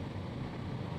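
A Force Urbania van's engine is held flat out at high revs, around 3,100 RPM, heard from inside the cabin as a steady, low, muffled droning hum with no change in pitch and no talk.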